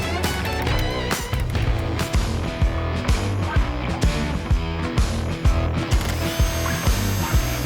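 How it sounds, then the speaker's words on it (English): T40 Torx screws being removed from a Polaris RZR dash, a ratchet clicking in regular bursts beneath loud, steady background music. "Remove 3 T40 Torx screws behind the cluster."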